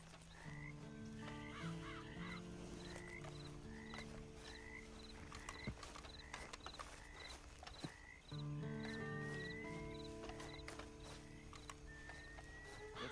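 A horse in the video game Red Dead Redemption 2 plods along with steady clip-clop hoofbeats and an occasional whinny, set against a dense night chorus of croaking frogs and a faint, sustained musical tone.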